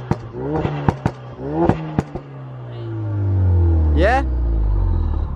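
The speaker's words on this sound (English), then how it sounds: "I'm just going to give it a little rev." A Ford Focus RS fitted with an Armytrix exhaust gives a few sharp pops and crackles, then its engine swells into a rising rev close by; a voice speaks briefly.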